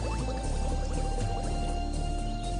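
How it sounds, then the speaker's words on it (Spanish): A male crocodile in a mangrove slaps the water with its snout and snorts water out through its nostrils, making a close, continuous sloshing and splashing with bursts of spray and no voices. "salpicando con el morro y resoplando agua por la nariz"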